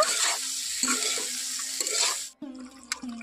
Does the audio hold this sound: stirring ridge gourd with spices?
yes